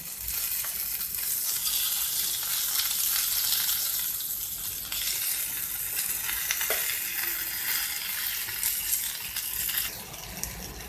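Bangda mackerel coated in masala shallow-frying in a pan, a steady bright sizzle and crackle for the whole stretch with a few soft scrapes as the fish is turned.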